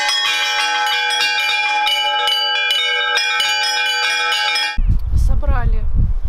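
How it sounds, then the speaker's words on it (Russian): A church bell rings out loud and close with repeated resonant strikes at Easter, the metallic tone sustaining throughout, then cutting to a different, noisier scene near the end. "Во всех церквях каждый мог позвонить в колокол."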